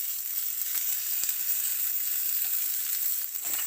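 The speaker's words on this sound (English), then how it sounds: "So you can hear that now starting to sizzle." Lamb loin chops fry in a pan, the fat sizzling in a steady hiss with faint crackles and a couple of soft pops, close and continuous with no talking.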